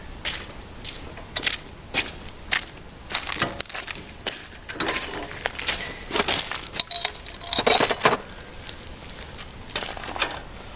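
A wrench tightens bolts during setup of a Harbor Freight 9000 watt generator, with repeated sharp metallic clicks, scrapes and clanks in irregular bursts, close by and fairly loud.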